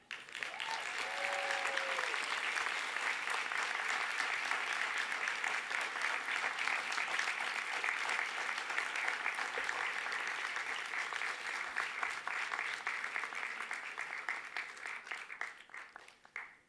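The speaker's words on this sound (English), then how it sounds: "give them a rousing round of applause because they too have earned it" Graduates at a university health faculty graduation ceremony give sustained applause to their families, a long even wash of clapping in a large hall that fades out at the end.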